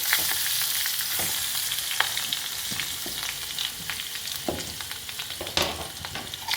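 A spoon scrapes and stirs grated raw mango with dried chilli and curry leaves in a hot pan. A steady sizzle of frying runs under repeated close scraping strokes.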